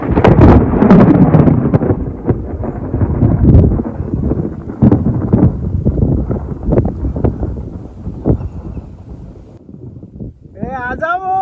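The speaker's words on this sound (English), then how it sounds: "hopefully it will all just restrict to lightnings and thunders" Thunder rumbles amid gusting wind during a rainstorm, heavy broadband roaring that swells and fades with some wind buffeting on the microphone, a brief voice near the end.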